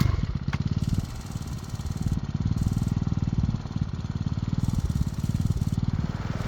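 A small pump engine runs on an aluminum highbanker sluice, a steady loud chugging drone with a fast regular pulse throughout, close by and alone.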